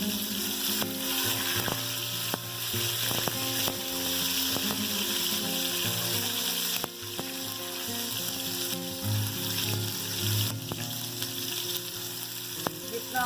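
Ginger garlic paste hits hot oil in a pot for nihari, setting off a loud continuous sizzle, with scattered spoon clicks and stirring scrapes running through the crackle.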